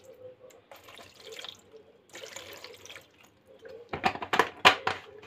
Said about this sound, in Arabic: هنزل عليها بحبه خل